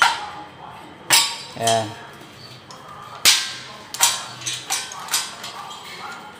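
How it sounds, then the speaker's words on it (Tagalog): A pop rivet gun sets rivets into metal ceiling framing, giving a series of sharp snapping pops at irregular intervals, close and fairly loud, with a brief spoken word in between. "Tapos, lalagyan mo yan ng rivets. I-rivets mo lang mga kamasta"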